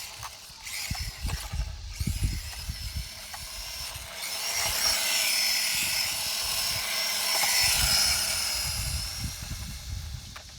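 HBX 2188A 1/18 scale RC drift car with a small 800 mAh battery, its electric motor whining and surging as it speeds and slides, tyres hissing on the surface, steady and fairly close.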